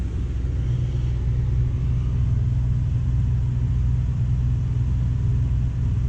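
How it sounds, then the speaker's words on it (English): Onan RV generator running together with a camper air conditioner, heard from inside the front of the camper as a loud, steady low rumble and hum that stays even throughout with no talk. "at about 56, 57 decibels with the generator on and the air condition"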